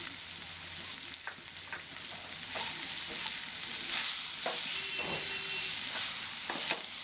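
Vegetables coated with turmeric and chili powder fry in oil for a prawn curry, giving a quiet continuous sizzle broken by scraping stirs and light clinks of the spoon against the pan, with no talking.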